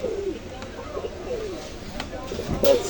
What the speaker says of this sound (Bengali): এগুলো হচ্ছে আমাদের বুনো কবুতর।